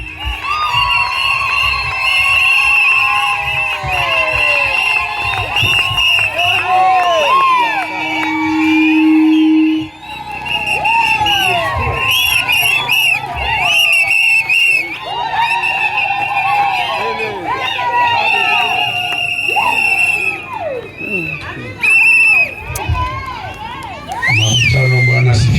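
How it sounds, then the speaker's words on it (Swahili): A church congregation at the opening of a revival meeting in Kasulu cheers loudly, with high ululating cries, shouts and scattered claps forming a dense, continuous crowd roar for about twenty-five seconds. "Tumchapie Yesu makofi wakati mtumishi wa Mungu anakuja."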